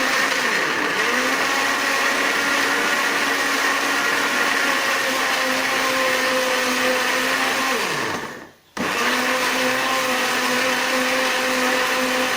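A blender grinds candlenut, chili, ginger and turmeric with a little water, running as a loud, steady whirring drone that briefly cuts out near the end and then starts again.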